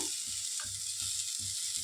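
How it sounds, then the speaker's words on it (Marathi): Peanuts roasting in a little oil in a pan make a quiet, even sizzle, broken by regular soft knocks as they are stirred, with no one talking. "थोडंसं तेल ओतून भाजून घेऊया आपण"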